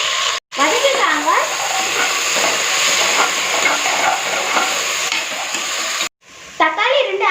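Ginger garlic paste with onions and green chilies sautéing for veg biryani, a loud continuous sizzle with stirring, broken by two brief drops and accompanied by soft talk.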